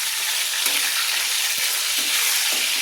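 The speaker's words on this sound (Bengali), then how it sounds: "আমি বেগুনগুলোকে ভেজে নিচ্ছি" Salted eggplant slices frying in oil over a medium flame, a continuous bright sizzle with a few soft crackles, close and alone.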